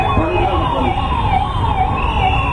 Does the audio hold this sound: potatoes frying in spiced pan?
no